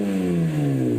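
BMW E46 M3 with the S54 engine and a Gruppe M exhaust, a loud, close, smooth engine note that falls steadily in pitch as the revs drop off, with no talk.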